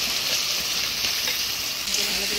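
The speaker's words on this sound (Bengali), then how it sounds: "এবারে দিয়ে দিচ্ছি ভাজা আলু।" Fried potatoes hit a hot pan of spice paste made with onion, garlic, chili paste, turmeric and salt, giving a steady close sizzle and frying crackle while being stirred, with no voices.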